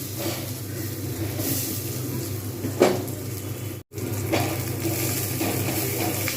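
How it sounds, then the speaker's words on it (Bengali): Onions frying in a pan for a Bengali potol khichuri, a steady loud sizzle with a brief stirring clatter partway through and a short cut near the end. "পেঁয়াজগুলো কিন্তু সুন্দরভাবে ভাজা হয়ে গেছে"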